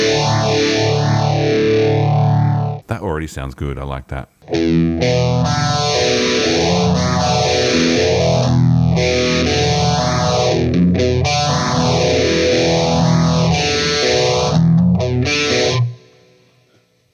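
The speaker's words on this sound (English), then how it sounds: "Phaser. I like a nice deep phaser." Electric guitar played through a Boss GT-1000 with a slow, deep phaser sweeping in and out, sustained distorted chords for about fifteen seconds with a brief pause and a short spoken comment near the start.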